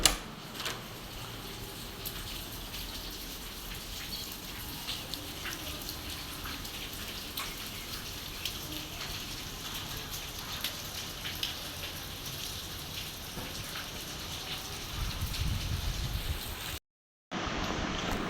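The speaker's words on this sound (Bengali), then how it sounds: "বৃষ্টি হচ্ছে দারুণ।" Rain falling outside, a steady, even hiss of drops that holds at moderate level throughout, with a slight swell near the end and no talk.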